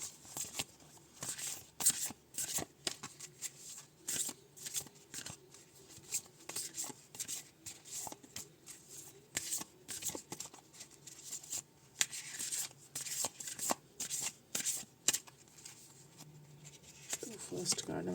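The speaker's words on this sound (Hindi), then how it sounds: "अब दूसरे डेक से भी निकाल लेंगे थोड़े से कार्ड्स इंडियन टैरो से।" Tarot cards being shuffled and handled, including an Indian tarot deck, giving repeated soft riffling and snapping bursts in an irregular rhythm, close and quiet, alongside someone talking.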